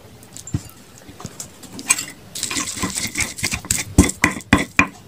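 Repeated pounding and scraping of a pestle grinding dried shrimp (ebi) in a stone mortar (ulek), irregular knocks growing busier and louder, close by with no talk.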